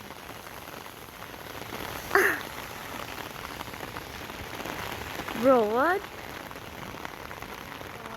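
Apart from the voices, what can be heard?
light rain falling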